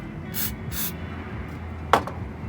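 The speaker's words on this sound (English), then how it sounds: "spray a little bit more" Short hissing bursts of aerosol cleaner sprayed onto a throttle body and air temperature sensor on a Dodge Charger Scat Pack, two quick sprays then a brief sharp knock, fairly close and quiet.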